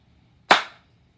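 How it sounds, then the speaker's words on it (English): A car door slams shut once: a single sharp, fairly close thud in an otherwise quiet setting, decaying quickly. "That was his mother's car door slamming."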